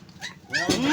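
A dog gives a short whimpering yelp, close and fairly loud, rising at the end, in a brief moment aboard a mother boat.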